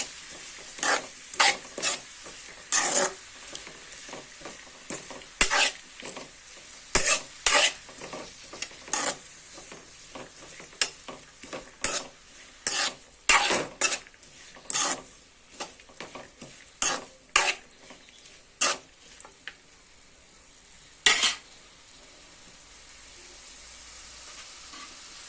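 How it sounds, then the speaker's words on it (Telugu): Utensil scraping and stirring chukka kura (sorrel leaves) tomato curry in a pan, with repeated sharp scrapes in an irregular rhythm over a soft steady sizzle, close and clear with no talking. "ఈవెన్గా కలిపేసుకుందాం."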